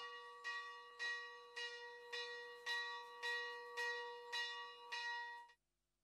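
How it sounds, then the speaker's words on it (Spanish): Starting bell at a horse race track rings in a steady series of about eight evenly spaced, bright metallic strokes, each ringing briefly before the next, then stopping abruptly; heard alone without talk. "Hay campana de largada para esta sexta, perdón, para esta undécima competencia"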